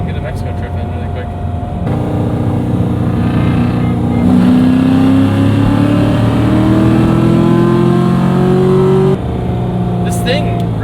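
A V8 car engine revs and accelerates loudly, its pitch climbing steadily through the gears over a few shifts, heard up close from inside, with people talking.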